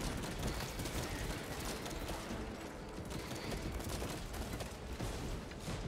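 Gunfire rattles in the Warhammer 40k: Space Marine II video game as a constant, dense wash of rapid shots and clanking mechanisms, loud and unbroken for several seconds.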